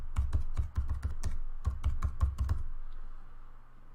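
Rapid clicking of computer keyboard keys as a domain name is entered, a quick burst of about a dozen close, crisp keystrokes that stop before a quiet room tone.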